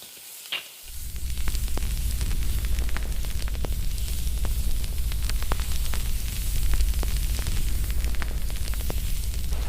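Onions and garlic sautéing in a covered pan, a steady dense sizzle and crackle that holds loud and even throughout after a short quiet start with a single clink.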